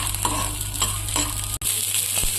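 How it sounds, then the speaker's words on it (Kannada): Green peas sizzling in an oil-filled pan while being stirred, giving a continuous hiss with rhythmic scraping strokes and a momentary dropout midway. "ಇದನ್ನ ಈಗ ಇದನ್ನ ಒಂದು 2 ರಿಂದ 3 ನಿಮಿಷ ಫ್ರೈ ಮಾಡ್ಕೊಂಡ್ರಿ"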